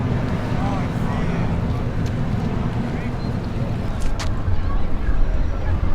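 A boat spins around at high speed off Galveston, Texas, with a constant engine and water roar and heavy wind buffeting the microphone, while a voice is faintly heard over it.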